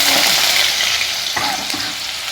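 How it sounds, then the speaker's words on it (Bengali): Diced potatoes frying in hot mustard oil for chire pulao, a loud continuous sizzle with a few scraping stirs, close up and without talk. "তেল গরম হয়ে গেছে, আমি চিড়ে পোলাওতে আলু ডুমো ডুমো করে দিয়েছি। মানে এটা ভেজে নেব পুরো।"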